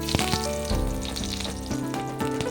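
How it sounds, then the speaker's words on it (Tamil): Mustard seeds and curry leaves sizzle and crackle in hot oil, a steady dense frying hiss with sharp popping bursts throughout, close and fairly loud with no voices. "இப்போ கடுகு நல்லா பொரிஞ்சிடுச்சு. இப்போ வந்து ஒரு 10 கருவேப்பிலை போட்டுக்கலாம்."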